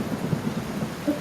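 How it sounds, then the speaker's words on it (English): Rain sound effect played back from a beginner coding program, a steady broadband hiss of falling rain with a low rumble, continuous and even for about a second. "the title of your sound, which for me would be rain"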